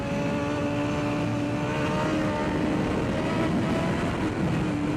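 Racing motorcycle on Bridgestone Battlax V02 tyres lapping a track, its engine droning loud and steady throughout with strong harmonic whine, heard from on board as it downshifts toward third gear.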